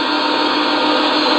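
An SD80MAC diesel locomotive engine sound from a Legacy model sound system produces a loud, steady, dense mechanical drone that holds evenly through the brief moment.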